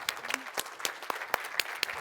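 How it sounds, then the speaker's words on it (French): Sparse, scattered clapping from a conference audience at a sustainable-mobility event, a few separate hand claps spread over two seconds, fairly quiet and without talk. "vous pouvez applaudir"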